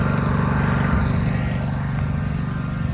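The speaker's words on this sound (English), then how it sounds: "Let it idle here for a little bit and charge the battery up because the battery's basically dead." An AGCO 1716H lawn tractor with a nearly dead battery idles close by, giving a loud, steady, rumbling drone with no voices over it.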